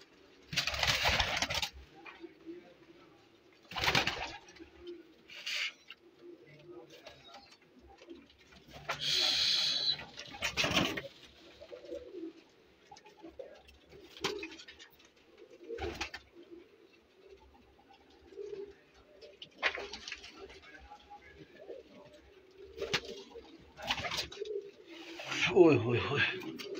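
Pigeons coo in short repeated bursts at a pigeon show, the calls coming and going over a steady low hum, with people talking through much of it.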